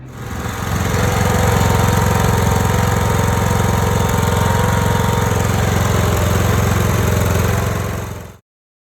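A lawn mower engine runs loud and steady at close range, droning without pause before cutting off abruptly at the end.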